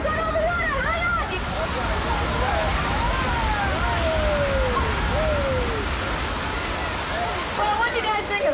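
Water rushes loudly and steadily through a theme park earthquake ride while voices cry out and shriek above the wash and sirens wail faintly.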